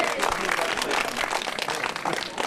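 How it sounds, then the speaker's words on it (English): A rally crowd gathered to save local libraries and museums breaks into steady applause, dense clapping filling the space for a few seconds with no voices on top. "give me some applause"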